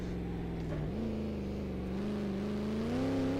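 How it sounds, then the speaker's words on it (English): Shelby Cobra 427 V8 in the Assetto Corsa racing game powering out of a corner: a deep, rumbling engine note that dips briefly, then climbs steadily as it accelerates, loud and close throughout. "the engine sounds so good when you're powering out a corner"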